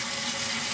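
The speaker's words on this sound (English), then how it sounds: "let the hot water run, or let the water run until it gets hot" Hot water runs from a kitchen sink faucet in a loud, steady, hissing rush that fills the whole moment, with no voices.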